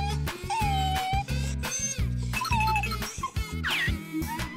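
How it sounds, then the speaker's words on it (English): A cartoonish dog in a children's animal video gives yelping, whimpering cries, including a rising yelp near the end, over loud, steady, bass-heavy music. "Dog."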